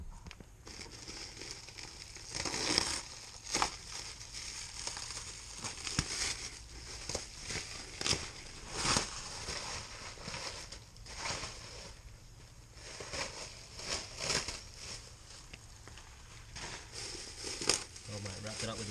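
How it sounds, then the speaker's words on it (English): Plastic garbage bag crinkles and rustles as it is pulled off an R154 gearbox, with irregular crackling bursts that come and go over several seconds, close but fairly quiet. "we're just about to unwrap this R154"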